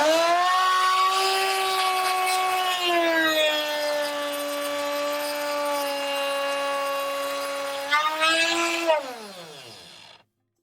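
A power tool whines at a steady pitch while cutting a Plasticaster guitar neck blank, loud and close for about nine seconds before winding down and stopping.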